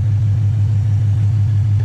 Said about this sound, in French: Ça c'est le moteur V8.